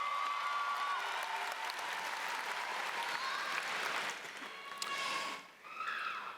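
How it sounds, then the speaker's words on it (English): Graduation ceremony audience at Meadowbrook High School applauding for the Class of 2019, a broad sustained crowd clapping heard from a distance in a large venue, dipping briefly near the end. "Class of 2019, give them a round of applause, please"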